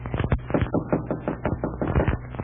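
Repeated knocking on a hotel room door as a radio drama sound effect, a quick series of sharp, close raps in an irregular rhythm filling the whole moment without any voices.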